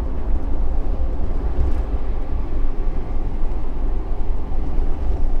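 BFGoodrich KM3 mud-terrain tires drone on a freeway at a steady 65 mph with no acceleration or braking, a continuous loud low rumble of road and tire roar heard from inside the vehicle.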